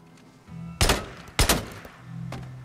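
Two loud gunshots ring out in the Days Gone video game, spaced about half a second apart over a low in-game background hum.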